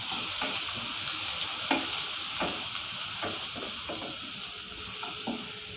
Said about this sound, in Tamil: இப்போ கடுகு உளுந்தம் பருப்பு பொரியட்டும்.